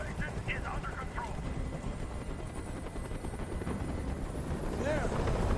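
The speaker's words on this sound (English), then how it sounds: "I can't stand that noise anymore. Tell that helicopter to get out of here." A continuous, loud helicopter drone with a steady rotor throb fills the scene in the video game Detroit: Become Human, with brief voices heard under it.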